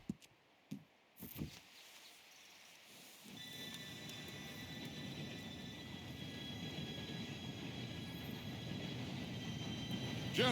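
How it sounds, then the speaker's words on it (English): A train draws near in the Red Dead Redemption 2 game world, a steady rumbling roar that builds and swells over several seconds after a few brief knocks, with high metallic tones riding on top. "Train should be here any minute now."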